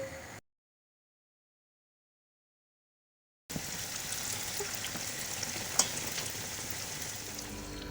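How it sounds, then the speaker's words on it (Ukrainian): Oil sizzling and crackling steadily as doughnuts fry, close and continuous after a brief silence, with a small clink near the end. "І продовжуємо смажити."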